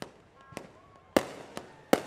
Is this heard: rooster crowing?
no